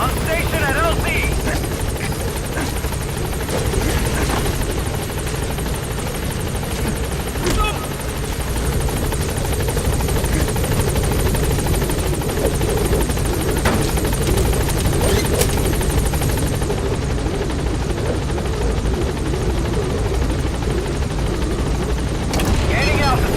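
P-Quad support helicopter arriving at the landing zone in Metal Gear Solid V, a loud continuous rotor thrum and engine drone, close and steady, with radio voices over it.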